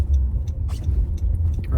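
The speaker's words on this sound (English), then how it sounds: "Oh, car's coming." A car rolls past on a wet road, a low rumbling swell with a soft tire hiss that rises and fades over a couple of seconds, close by and with no voices.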